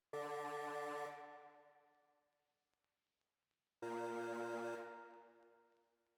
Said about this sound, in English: Then I added the synth from Electra from also the same bank.